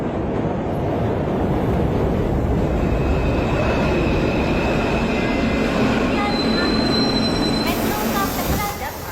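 A metro train runs continuously with a loud, steady rumble of wheels on rails, and high squealing tones ring out from the wheels toward the end.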